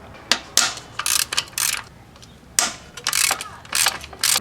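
Ratchet wrench removing nuts from an ignition coil housing during head gasket work, a series of close, sharp ratcheting clicks in short bursts separated by brief pauses.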